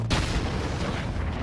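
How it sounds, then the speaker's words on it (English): A loud, rumbling crash and blast as a helicopter slams down in the video game Call of Duty: Modern Warfare, a dense roar of noise lasting the whole moment with no talking. "the dude tried to crash his helicopter at me."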